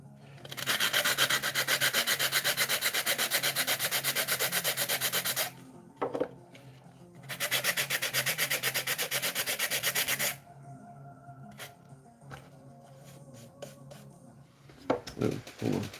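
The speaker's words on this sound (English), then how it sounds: "work on cleaning up some of these other parts, just some sanding" Steady rubbing and rasping of sanding 3D printed parts, two long continuous bursts separated by a pause, followed by quieter scattered handling noises.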